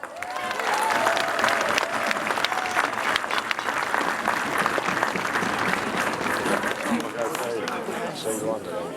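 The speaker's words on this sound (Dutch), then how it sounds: "Wessel en Isa, een applaus." Audience applause at a Dutch carnival mock-court evening, loud sustained clapping from a crowd filling the whole stretch, with cheering voices mixed in.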